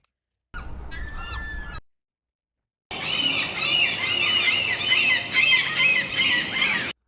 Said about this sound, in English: That's a whole flock of seagulls right there.